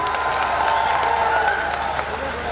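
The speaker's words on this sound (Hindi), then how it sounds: "इसके लिए भी एक जोरदार ताली होनी चाहिए" Crowd at a BJP political rally in Uttar Pradesh claps loudly and continuously, a thick, even roar of applause from many people filling the whole stretch with no speech over it.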